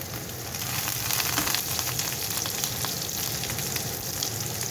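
Peppers and onions sizzle and fry in a pan for a chicken tikka curry, a steady close crackle with occasional stirring and no voices.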